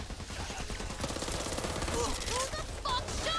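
Rapid bursts of shotgun fire from the zombie shooter Back 4 Blood fill the scene in a dense, continuous barrage alongside other gunfire and game effects, loud and close.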